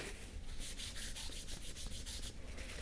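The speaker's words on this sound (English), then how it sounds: "rubbing the colour in, so it get that green underneath coming through it." Paint is rubbed into a painting over a green underlayer, giving soft, rapid, rhythmic scrubbing strokes that are quiet and close, with no voices.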